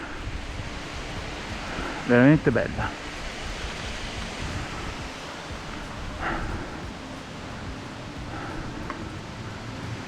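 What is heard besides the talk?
waterfall on mountain river near Passo della Collina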